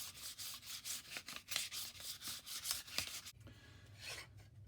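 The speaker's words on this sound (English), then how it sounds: "I'll just start sanding this down" Rhythmic back-and-forth scraping of sandpaper rubbing a block by hand for a Pocher Mercedes scale model's convertible top support, close up, about a dozen strokes before pausing, then a softer stroke.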